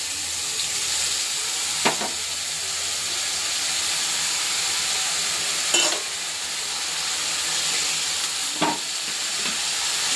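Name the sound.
spices frying in a pan (salt, turmeric, chilli, cumin, ginger)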